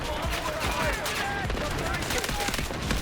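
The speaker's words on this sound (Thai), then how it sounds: "ดูดูแรงดีดนะ ดูผมยิงนะทุกคนนะ" Rapid gunfire from a rifle in the shooter game Delta Force, a dense run of repeated shots lasting the whole span, loud and close, mixed with faint background game noise and some talk.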